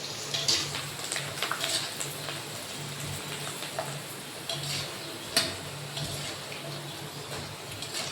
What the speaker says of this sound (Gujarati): તો ભૂંગળા તળ નાખી.